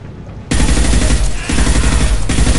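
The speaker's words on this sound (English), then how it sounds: "Firing a high impact shot." Heavy high-impact gunfire in Mass Effect 2, loud and close, with a dense sustained barrage kicking in after a quieter start and continuing with brief dips throughout.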